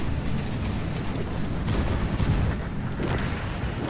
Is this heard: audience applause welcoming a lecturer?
no